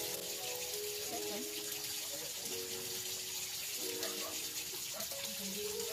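Running water flows steadily from a tap while a forearm is scrubbed with a sponge during surgical handwashing, a soft continuous wash with faint rubbing, moderately quiet, with occasional talk in the background.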